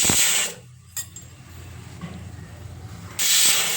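A pressure cooker steaming pumpkin lets out loud bursts of hissing steam from its whistle, a strong release at the start and another at the end with quieter hiss between.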